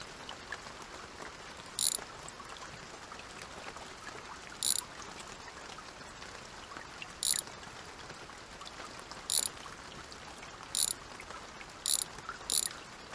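A ratchet wrench removes bolts from engine cylinder heads in a home garage. About seven short, sharp ratcheting bursts come at irregular intervals over a quiet, steady background.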